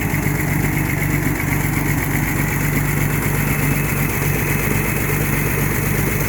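Old Clark forklift engine idling just after a cold start with the choke on, a steady rough low rumble with a faint uneven beat, close and continuous throughout with no talking.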